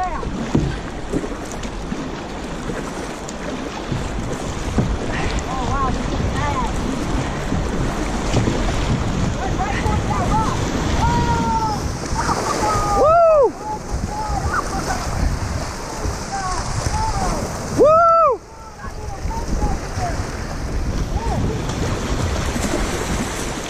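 A kayak on the Coosa River churns and splashes through rough water amid constant wind buffeting on the microphone, with two sharp whooshing surges and people shouting over the din.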